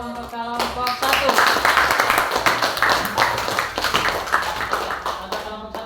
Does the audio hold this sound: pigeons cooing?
no